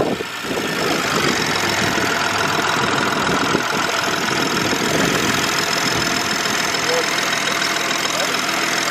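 BMW M240i with B58 engine after a charge pipe install, running at a steady close idle that fills the whole stretch at an even loud level.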